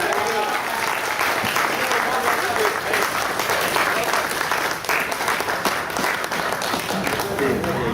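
Crowd at an outdoor vigil breaks into sustained applause, a dense steady wash of clapping that holds loud and even for about eight seconds, with scattered voices mixed in.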